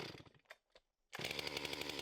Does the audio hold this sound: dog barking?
no